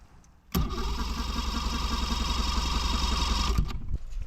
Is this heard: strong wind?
no